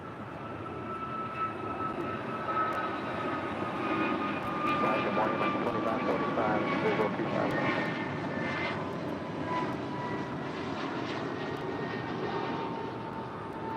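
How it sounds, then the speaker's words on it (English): An American Airlines Airbus A321neo jet departing LAX, heard as a steady, loud engine roar with a sustained whine throughout, with faint voices in the background. "Next departure, American Airlines Flight 2725 heading to Reagan National there in D.C. Also an A321neo."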